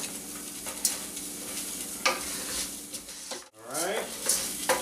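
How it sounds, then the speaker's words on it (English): Risotto rice toasting in a pan with olive oil, shallots and garlic, with a steady sizzle and spoon scrapes that rise and fall, and a brief dip near the end. "you stir it around to coat it with the olive oil and the shallots and the garlic and everything"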